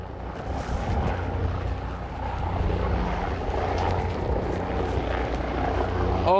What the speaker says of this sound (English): we got the police helicopter here.